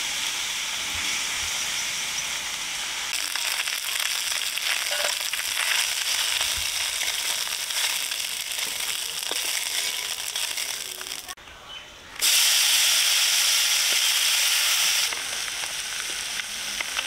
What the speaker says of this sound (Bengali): কড়াই গরম হয়ে গেছে, দিয়ে দিলাম তেল।